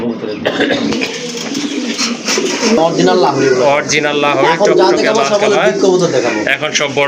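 Pigeons at a pigeon seller's collection coo repeatedly under near-constant loud talk from a man, their low burbling calls mixed into a busy, close soundscape.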